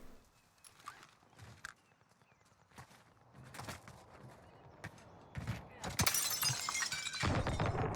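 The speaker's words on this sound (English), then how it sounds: "I don't mind making noise when I'm smashing in through like the upstairs windows" Glass window smashed in Warzone, a sharp broadband crash near the end following muffled footsteps and movement sounds, fairly loud and close.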